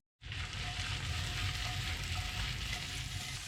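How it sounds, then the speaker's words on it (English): Beef heart and liver pan-fry in a hot pan, with a close, loud, continuous sizzle that starts abruptly and holds steady throughout. "we're gonna pan fry this quickly"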